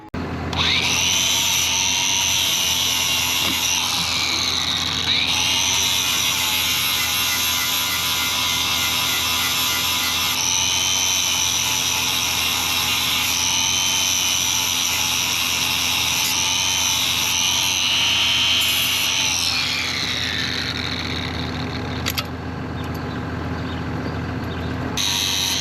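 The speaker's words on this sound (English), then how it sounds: "I'm gonna get at it and grind these up." Angle grinder fitted with grinding blades runs continuously at full speed, a loud, sustained high-pitched whine that holds for about twenty seconds before winding down near the end.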